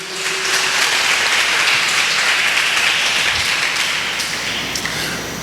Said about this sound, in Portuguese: Você pode dar um aplauso ao nome do Senhor Jesus.